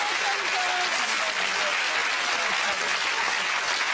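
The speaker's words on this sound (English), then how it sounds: "Give them a round of applause, everybody." A television studio audience applauds after contestants finish, a full, continuous burst of clapping with faint tonal music lines running underneath at a moderate distance.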